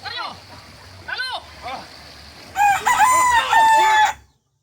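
Several roosters crow in close succession at a cockfight, the first calls separate and the later ones overlapping loudly, with some voices and splashing in the background.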